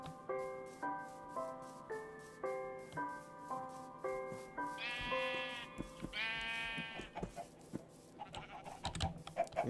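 Sheep bleating in the Minecraft video game, a series of repeated wavering bleats in a steady rhythm, then two longer, higher bleats and a burst of clattering game noise at the end, loud and without talk.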